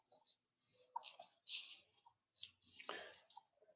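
A mouse click on an on-screen start button during digital document signing, heard as a few soft, faint clicks close by, with a little breathing in between.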